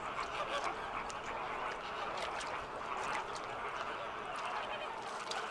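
A huge Caribbean flamingo colony on a remote Cuban coast, where the birds nest close together, fills the air with dense, overlapping goose-like honking that rises and falls continuously, heard at moderate distance.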